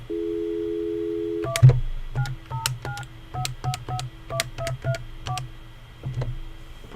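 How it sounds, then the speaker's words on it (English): A telephone dial tone hums briefly before a rapid run of keypad DTMF tones dials a number, each beep short and distinct, with the line continuing faintly afterward. "I'm going to go ahead and dial the CEO's number."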